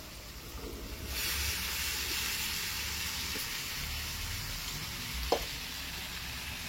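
Boiled kabuli chickpeas hit hot masala in a pan, setting off a steady broad sizzle that jumps up about a second in and keeps hissing evenly, with a small clatter near the end.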